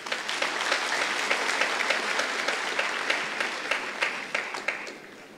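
Mourners at a memorial service keep up a full, even round of clapping that holds for several seconds and then eases off with a few distinct louder claps near the close.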